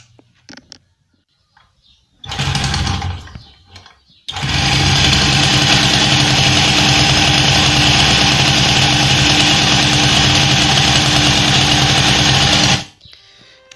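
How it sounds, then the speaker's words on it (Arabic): A Peugeot 103 moped engine starts after a brief sputter, then runs loud and close with a steady buzzing drone for about eight seconds before cutting off abruptly. "نحي الفيشة الموتور معناها تمشي"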